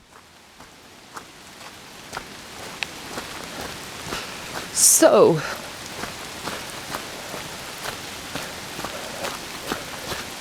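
Rain falls steadily around a person walking downhill in Zurich, a soft continuous patter with scattered sharper drops, joined briefly by a louder rustling burst midway, while a voice says a single word.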